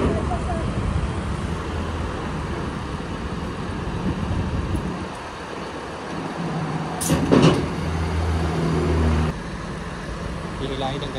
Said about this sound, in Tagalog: Ayan na guys yung tow truck.